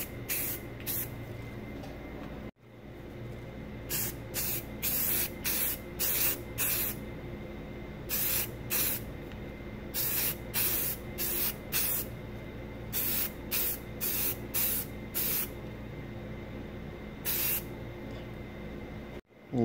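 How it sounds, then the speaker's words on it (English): Aerosol primer sprayed in a series of short, close, hissing bursts onto a shaved B-series Honda distributor cap, with brief pauses between passes over a steady low background hum. "shoot it with the primer, and then let that dry, come back, and then we'll get the final coat. Let's get a light dusting on it"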